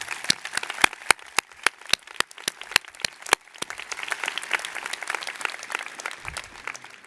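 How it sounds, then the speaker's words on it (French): Audience at the formal opening ceremony of the Bordeaux Bar applauds the Bar staff: sharp, separate claps at first, then building into denser, fuller applause from a sizable crowd in a hall. "Je vous demande de les applaudir, s'il vous plaît."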